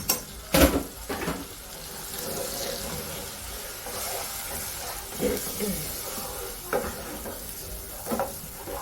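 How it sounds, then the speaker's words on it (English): Stirring a pot of blue rice on the stove, with soft scraping strokes and a light background hiss, plus a few sharper clatters of the spoon against the pot at intervals. "I like my camera stay focused when I stir"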